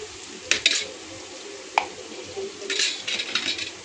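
Ginger, garlic, green chili and coriander paste frying with onions in a pan for palak paneer, a soft steady sizzle broken by a few sharp clinks and scrapes of stirring, close and without talk.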